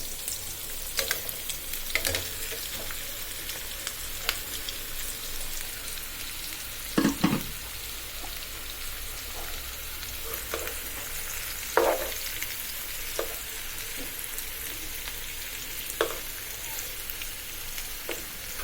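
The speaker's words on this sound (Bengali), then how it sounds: "মশলা মেখে রাখা মাছগুলো দিয়ে দিচ্ছি" Spice-marinated pangas fish fries in a wok after onion, garlic and green chillies, giving a steady close sizzle with a few clattering stirring knocks along the way.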